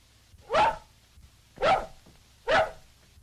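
Three loud, evenly spaced dog barks about a second apart, close by, with no talking and a quiet background in between.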